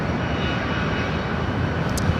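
Boeing 787 Dreamliner jet arriving from Haneda, a brief loud continuous engine roar with dense low rumble, unbroken across the short stretch.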